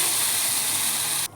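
Broth hits a hot pan of egg and potato curry with a steady loud sizzling hiss that holds for just over a second and then cuts off abruptly.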